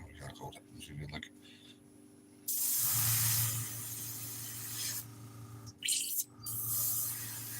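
An airbrush sprays in two long bursts of steady close hiss, broken by a short pause, with quiet rustling and handling noises before the first burst.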